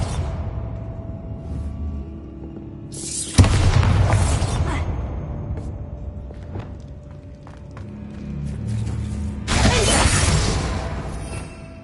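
Bombarda blast spells from the Hogwarts Legacy video game: two loud explosive bursts with crashing debris, one about three seconds in and another near the end, over a steady game ambience with no talk.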